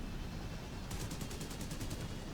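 Rapid bursts of rocket and cannon fire from an aircraft in the War Thunder video game, a quick regular train of about a dozen sharp shots after a short low rumble, loud and close with no talk.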